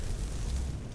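A short, muffled explosion erupts in a video game during a fight with atronachs, a dense low rumbling burst that fills the whole second at steady loudness.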